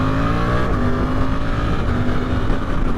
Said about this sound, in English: that engine braking into corners is lovely